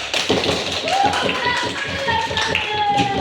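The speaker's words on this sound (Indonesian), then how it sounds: "Tepuk tangan dulu." Primary schoolchildren in a classroom clap their hands together in a rhythmic patterned clap, fairly close, with children's voices mixed in over the taps.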